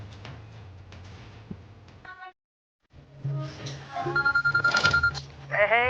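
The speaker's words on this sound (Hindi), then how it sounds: "अगर मैं तेरा फोन काट रही हूँ तो बार बार क्यों फोन कर रहा है?" A mobile phone rings with a repeated incoming call, its ringtone tones sounding in bursts near the end, heard alongside someone talking and household background noise in a home setting.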